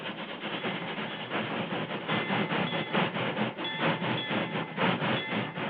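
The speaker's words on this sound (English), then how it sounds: "Stop the train!" A steam-era train rumbles toward the listener as a radio drama sound effect, with dense rhythmic chugging and clatter that steadily grows louder, heard alone without voices.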